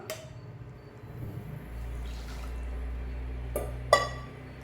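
Water pours into a pan of sugar with a low, steady gurgle, framed by a couple of sharp metallic clinks near the start and end.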